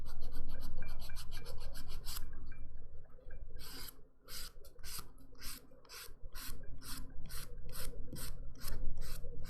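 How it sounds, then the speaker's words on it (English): An orange buffer block rasps back and forth across dip powder nails with black glitter, quick rhythmic scrubbing strokes, close and bright, pausing briefly before resuming in a steady series. "you can absolutely use those orange buffer blocks to smooth everything out"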